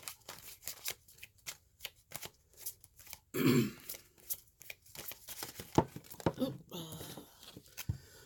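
Tarot cards are shuffled and drawn during a reading: soft, scattered slaps and flicks of cardstock, with one brief riffling burst in the middle, close and fairly quiet among pauses.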